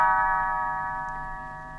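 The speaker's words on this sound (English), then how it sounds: "You will know it is time to turn the page when Tinker Bell rings her little bells" A bright little bell chime, Tinker Bell's page-turn signal, rings once with clear sustained tones that slowly fade, heard alone.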